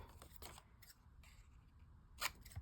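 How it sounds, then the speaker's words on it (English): Scissors snip through cardstock to cut ticket shapes, a few quiet, close crisp cuts spaced out, the last one sharper and louder. "Let me just cut these"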